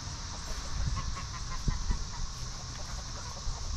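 Brahma chickens cluck quietly in the background over a constant hum of ambient noise.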